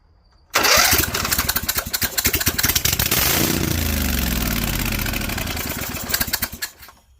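Cub Cadet 2165 lawn tractor engine cranked with a starter boost and choke held, a rapid chugging crank that catches into a rough, loud running roar for a few seconds before sputtering down, close and without talk.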